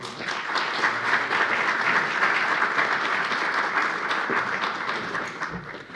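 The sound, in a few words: applause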